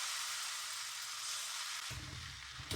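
An egg paratha fries in a pan, giving a faint, even hiss throughout with a soft low thump partway through.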